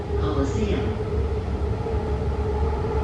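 A six-car BART Green Line train bound for Berryessa rumbles steadily as it pulls into a station that is a transfer stop for Amtrak and the Oakland Airport line, with a continuous low drone and faint squeal heard from inside the car.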